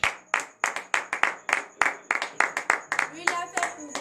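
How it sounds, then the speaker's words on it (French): Rhythmic clapping from a church congregation at a morning prayer service, sharp evenly spaced claps close by, with voices cheering and calling out toward the end. "donnez de vives acclamations à"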